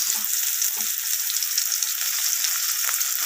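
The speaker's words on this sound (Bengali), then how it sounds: "এরপর ওই তেলের মধ্যেই আমি কিছুটা পরিমাণ কালো জিরে দিয়ে দিলাম ফোড়নে আর দিয়ে দেব কেটে রাখা পেঁয়াজ" Nigella seeds and chopped onion frying in hot oil, a bright continuous sizzle close up with a couple of faint low stirring bumps near the start, steady throughout and without speech.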